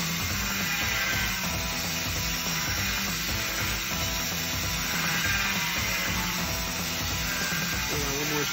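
A grinding stone works on a part of a 1929 Pontiac engine during an overhaul, giving a continuous loud, harsh rasp with a steady machine hum beneath it that runs unbroken from start to finish.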